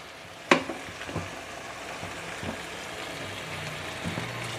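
Chicken masala for chicken sukka sizzles in a pan as a little water from the mixer jar is poured in; a sharp hiss bursts up at once, then settles into a steady frying crackle with a few soft stirring knocks.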